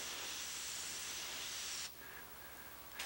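Continuous airy hiss of an airbrush spraying paint onto canvas, loud and close, cutting out briefly then resuming softly with a faint whine underneath.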